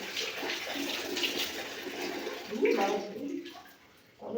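Water runs steadily from a tap while hair is being washed and shampooed, a continuous splashing rush with fluctuating intensity that thins out near the end, heard up close.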